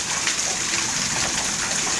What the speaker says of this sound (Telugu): వర్షం అయితే పడుతూ ఉంది